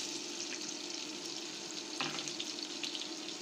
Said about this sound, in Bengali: পেঁয়াজ গোল্ডেন ব্রাউন করে ভেজে নিলাম।